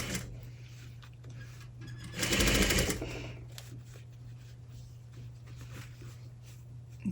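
A sewing machine stitches a curved princess seam in a quiet room, with one short, loud burst of rapid stitching in the middle and only a faint steady hum before and after.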